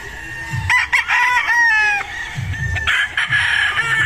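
A Boston Sweater gamefowl stag crows loudly and close, with other roosters crowing and clucking around it in a busy farmyard chorus, and low murmurs underneath.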